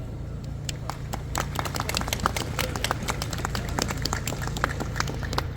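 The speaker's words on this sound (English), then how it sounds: "give them a big round of applause" A crowd applauds with scattered, crisp claps that settle into steady clapping over a constant low hum.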